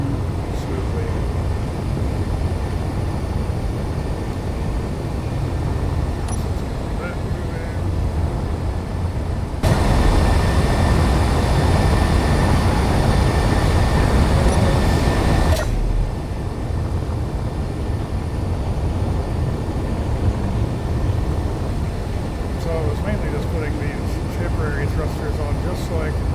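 Spaceship thrusters in the Space Engineers video game: a steady broadband roar under someone talking, surging much louder for several seconds in the middle before settling back to a constant hum.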